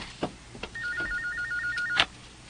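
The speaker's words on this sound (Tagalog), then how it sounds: "May nanawag sa telephone sa sala." An electronic ringtone warbles from a telephone in a living room, one trilling burst that rises and falls quickly, set between a few soft knocks in a quiet indoor space.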